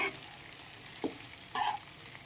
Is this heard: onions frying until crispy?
yes